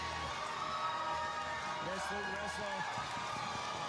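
Crowd noise at an APW Breakout XXXII wrestling match between James Marshall and Luke Reznor, a steady roar of cheering and shouting with scattered claps, while a voice calls out partway through.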